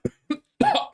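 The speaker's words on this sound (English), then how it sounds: "Sorry, I've got a cough." Two short, quiet coughs followed by a longer, throaty cough, close by and otherwise silent.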